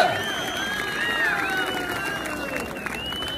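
A crowd at a kurash wrestling event applauds and cheers for wrestler Sherali Jo'rayev, a steady wash of clapping and hubbub with whistle-like tones riding over it at moderate volume.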